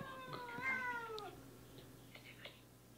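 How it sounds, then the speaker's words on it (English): A cat gives one drawn-out, wavering meow indoors, fairly faint against a quiet room with a low hum, followed by a few soft shuffling sounds. "What did you do to that cat? Whose cat is that?"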